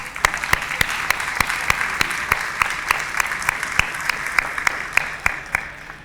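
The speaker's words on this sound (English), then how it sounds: "Can you give yourself a round of applause?" Steady applause from a crowd, sustained clapping with sharp individual claps standing out, continuing for several seconds.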